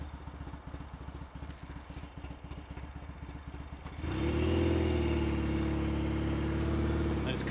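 A Royal Enfield Mk1 Interceptor motorcycle on the road, its engine pulsing steadily at first, then swelling into a louder, fuller roar as it accelerates about halfway through.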